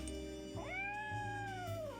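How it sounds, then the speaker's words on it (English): A cat in the Nancy Drew Dossier: Lights, Camera, Curses! video game gives a single clear, drawn-out meow, rising then slowly falling, heard alone and fairly close. "That's the cat Molly wants me to catch"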